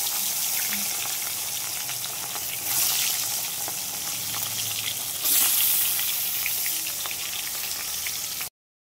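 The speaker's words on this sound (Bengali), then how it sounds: "এখন মাছ ভাজবো, মাছ ভাজতে দেবো।" Fish fries in a pan in a home kitchen, a loud, steady crackling sizzle that surges twice, close up and continuous before cutting off abruptly.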